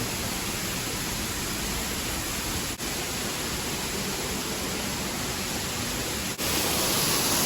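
Waterfall inside an orchid greenhouse, a continuous dense rushing roar of falling water with no breaks, loud and steady, with no talk.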